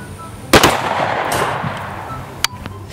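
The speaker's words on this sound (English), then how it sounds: "I'll have mercy on this peep nest and shoot the tack vest." A gunshot is fired at a vest made of marshmallow Peeps: one loud, close crack with a rolling echo, then a smaller sharp crack near the end.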